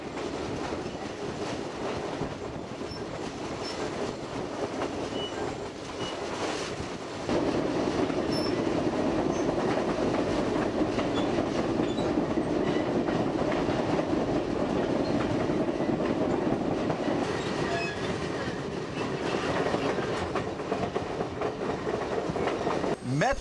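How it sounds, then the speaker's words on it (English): Alaskan passenger train wheels rolling over the rails, a continuous close metallic rumble and rhythmic clatter that grows louder partway through, with faint squeals near the end. "It's the sound of the wheels on the tracks."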